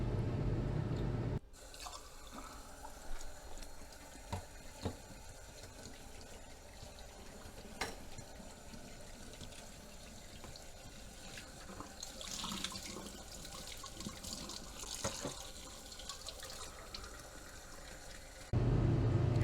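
A freshly melted jeweler's sweeps bar gets rinsed under a running tap, a steady stream of water splashing into a sink for most of the stretch, moderately close and unbroken by any talk.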